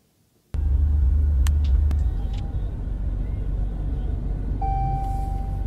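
A car moves in a played clip while a woman twerks on it, giving a loud steady engine and road rumble that starts abruptly and holds throughout, with a brief high whine near the end.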